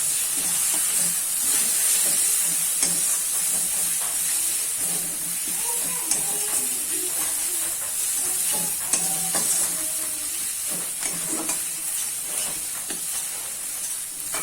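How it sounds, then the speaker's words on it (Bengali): Ground chilli, turmeric, cumin and coriander powders being fried and stirred in a pan for a prawn and pointed gourd dish, a steady sizzling hiss with soft scraping spoon strokes throughout. "এগুলোকে আমরা ভালো করে কষিয়ে নেব।"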